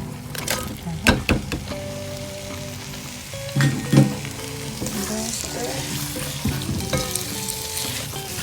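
Eggplant frying in a pot of stew, a sizzle with clattering stirring knocks and sharp clicks, close by, while someone speaks briefly in the background.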